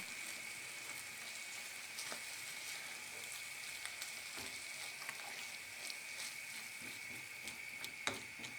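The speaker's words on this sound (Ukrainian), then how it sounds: "Перемішуємо та витримуємо 3 хвилини на вогні." False morel mushrooms with meat and sour cream simmer in a pan, giving a steady, quiet sizzle and bubbling that runs evenly throughout with no voices.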